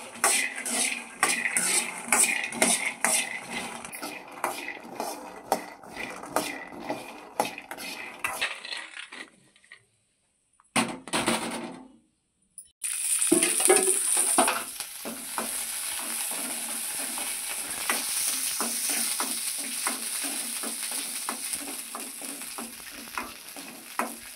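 Breakfast being cooked in a home kitchen: a utensil scrapes and stirs in a pan with a steady sizzle, clinks of metal, a short pause, then continued frying hiss and stirring close by.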